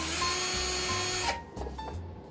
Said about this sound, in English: Now I'm going to move on to drilling holes in my driftwood